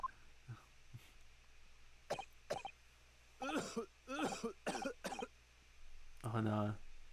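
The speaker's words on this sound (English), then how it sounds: "Oh no. The bloody cough." A character's coughing fit in The Great Ace Attorney game: a series of short, harsh coughs and throat noises, clustered in bursts and ending in a longer strained cough, close and fairly loud over a low steady hum.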